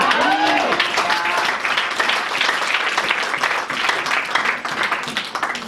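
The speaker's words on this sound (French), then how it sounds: "Est-ce que tu peux acclamer?" A church audience applauds with steady, full-room clapping. Voices and cheers mingle throughout, with a brief sung or called tone at the start.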